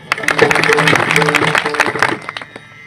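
A burst of audience clapping at a Marathi devotional kirtan, dense and fairly loud, rising quickly and then tapering off near the end, with voices mixed in.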